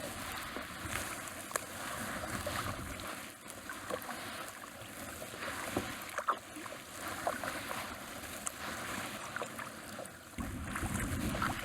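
Wind and water wash around a canoe out on a windy lake at a state park, with steady rushing and lapping sounds and the occasional knock or splash of a paddle stroke, fairly loud and without talk.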